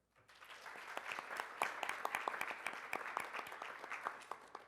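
An audience at the launch of an association of Black doctors gives a brief round of applause. Clapping swells in quickly and holds at a moderate, steady level, with distinct individual claps standing out.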